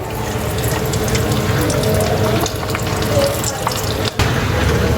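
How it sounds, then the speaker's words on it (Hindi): Chicken drumsticks deep frying in hot oil give a loud, dense, continuous sizzle and bubbling crackle, close and steady throughout with occasional clinks of a utensil. "इसी तरीके से हम अपनी सारी ड्रम स्टिक डीप फ्राई कर लेंगे।"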